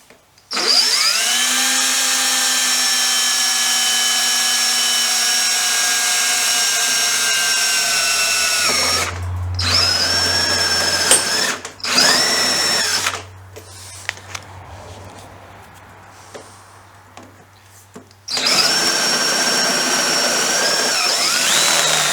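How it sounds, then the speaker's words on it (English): A power drill boring a hole into a GreeBSA 350 workpiece, a loud sustained whine running steadily for several seconds, pausing briefly, then starting up again in short bursts and finishing with a final steady run. "So now I'm going to drill a hole in there."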